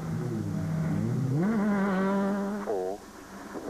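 Rally car engine heard from inside a Castrol Toyota on a tarmac stage, a loud sustained drone that climbs in pitch as it revs up, then drops abruptly at a gear change.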